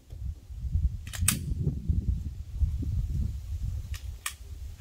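9mm pistol fired at an outdoor shooting range: two sharp cracks close together early on, then two more a few seconds later, over a steady low rumble of wind and background noise.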